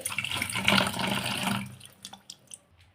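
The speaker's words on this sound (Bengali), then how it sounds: "কেটে শোল মাছটা ধুয়ে নেবো ভালো করে" Running water splashes steadily over a cut snakehead fish being washed in a kitchen, then thins to scattered drips and small splashes close by.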